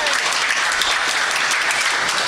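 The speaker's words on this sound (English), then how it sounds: "So give them a round of applause as well." Audience at a crime-writers' event applauding for the Sun Bookshop, a dense, loud and continuous roar of many clapping hands, sustained evenly without a break.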